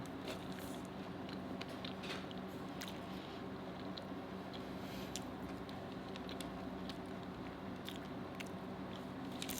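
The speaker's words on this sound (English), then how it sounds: "Let's try this Doritos Locos taco. A little fire sauce." Close, quiet crunching bites and chewing of a Doritos Locos taco with fire sauce, small crisp crackles scattered over a steady low background hum.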